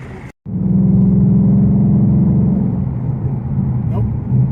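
A car engine cruises in sixth gear at about 1500 RPM near 55 mph, a steady, loud low drone with a faint rumble after a brief cut at the start.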